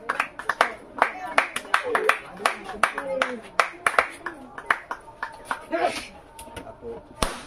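Scattered hand claps from a small family group at a Christmas cake cutting, sharp uneven slaps spaced through the moment, close by, with voices talking and calling out around them.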